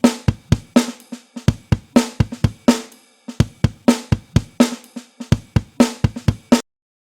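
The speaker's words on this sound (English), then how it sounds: "It's a funk break, so it's a drum loop" Funk break acoustic drum loop from the Ghosthack Mega Drums pack: punchy kick, snare and hi-hat hits in a tight syncopated pattern, loud and close, repeating for several bars before stopping abruptly near the end.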